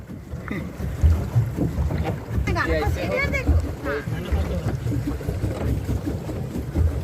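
A boat ride on a pond after visiting Bhoramdev temple, with water sloshing and wind buffeting the microphone under steady close conversation among several people.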